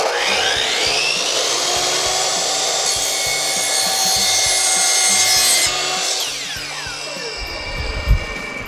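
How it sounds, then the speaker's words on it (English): A saw cuts through a drain pipe for a bathroom sewer line in a new house under construction, rapid back-and-forth rasping strokes running steadily, then slowing and ending with a final knock. "We made our first cut"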